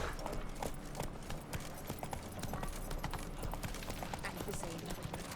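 Roach, the horse in The Witcher 3, trots with a steady run of hoofbeats under quiet game ambience, soft and somewhat low in the mix, with some game chatter around it.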